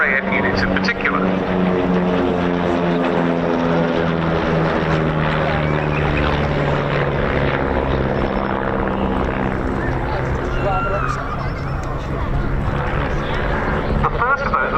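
A front-line RAF military aircraft flying at the RAF Cosford air show produces a loud, continuous propeller-like drone with a steady harmonic hum that holds throughout.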